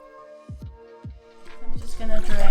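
Water from soaked wakame seaweed being drained into a kitchen sink, starting with a few hollow drips and plops and then swelling into a steady, louder splashing pour, close by.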